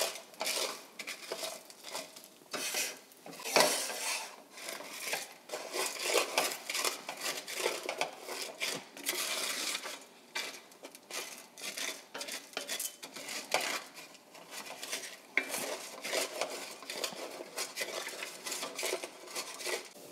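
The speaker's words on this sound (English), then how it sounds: "we're gonna toast that orzo in that little bit of olive oil that's left in the pan" Orzo toasting in a little olive oil in a pan, stirred with a utensil: soft irregular scraping and clicking against the pan, fairly quiet and continuous, with no one speaking.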